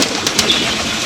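Pigeons flap their wings inside a partitioned cage at an animal facility, with a few quick bursts of feathery fluttering close by against a steady room hum.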